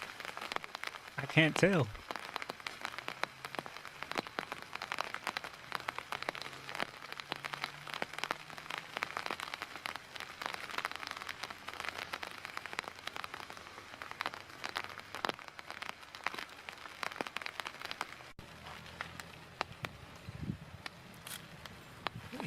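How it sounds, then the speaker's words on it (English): Steady light rain patters on a surface for over twenty seconds, faint and continuous with a few louder taps, while a voice speaks briefly near the start. "Wait, is it raining? What's that noise?"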